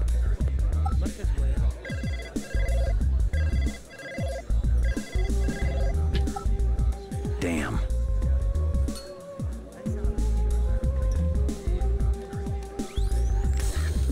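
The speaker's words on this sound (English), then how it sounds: "Let's try this phone call again." Telephone ringing in the 1997 Blade Runner PC video game, repeated electronic ring bursts over a dense bed of game music and ambience, with a person talking throughout.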